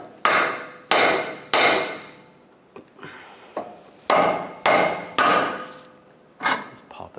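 A Volkswagen Beetle steering knuckle is struck from underneath to free it from the outer tie rod, giving a series of sharp metallic taps in uneven groups, close and fairly loud.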